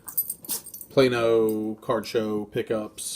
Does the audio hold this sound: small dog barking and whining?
yes